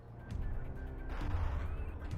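Battleship cannons in From the Depths boom in a rumbling, low barrage with several heavy blasts layered over continuous battle noise, with no voices.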